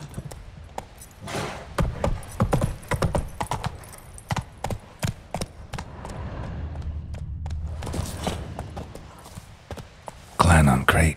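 Horse hooves in the video game Witcher 3: a close, rhythmic clip-clop of galloping strides, steady then louder, with a player's voice over it and a brief burst of louder clatter near the end.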